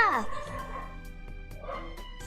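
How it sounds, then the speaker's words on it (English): Momo the dog gives a few short, faint yips and barks in the background, spaced out over quiet game music tones and a brief voice at the start. "Why is Momo barking? Probably barking at another dog."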